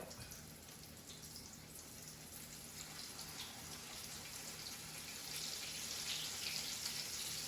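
Faint, steady sizzling and crackling of chicken fried steak frying in hot oil in a pan, a soft continuous hiss that grows slightly louder toward the end.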